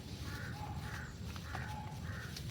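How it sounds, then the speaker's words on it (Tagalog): A crow caws repeatedly at a fairly even pace, four harsh calls over a steady outdoor background hiss, moderately distant. "May uwak. May uwak"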